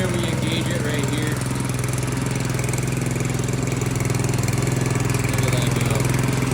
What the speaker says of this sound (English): That motor running. You see that crank spinning.